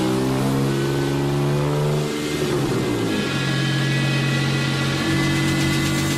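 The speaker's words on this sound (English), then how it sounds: "Using a machine called a dynamometer, Ron's team put the Scorpion through its paces." A Ferrari 250 GTO sports car engine revving on a dynamometer, loud and sustained, its steady drone rising in pitch around midway and then holding high, with no voices over it.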